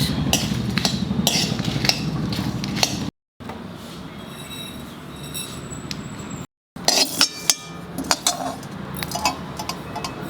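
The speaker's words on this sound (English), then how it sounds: "You just dry roast it." Spices are dry roasted in a pan, sounding as close clinks and scraping stirs of a utensil against metal, with steady rattling and two short silent breaks.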